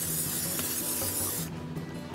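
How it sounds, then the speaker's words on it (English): A short, steady hiss of an olive oil cooking spray can, lasting about a second and a half before cutting off into quieter background. "Just spray that with some olive oil cooking spray."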